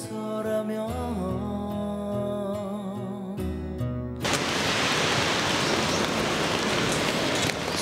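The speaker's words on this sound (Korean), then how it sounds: "비가 옵니다." Steady, dense rain falls outdoors, coming in abruptly after a few seconds of music and then holding as an even, loud wash.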